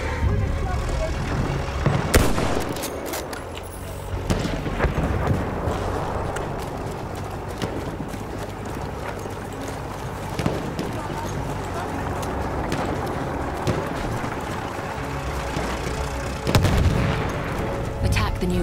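An artillery barrage in Battlefield 1, repeated heavy booms and explosions rumbling through constant battlefield noise, with a voice talking over it.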